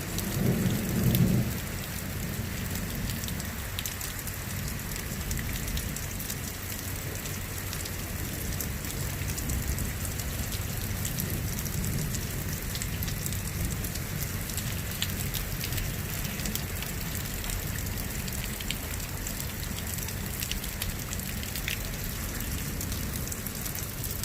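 Heavy rain pours steadily during a severe thunderstorm, a dense continuous hiss with low rumbling underneath and a brief louder burst at the start, no voices.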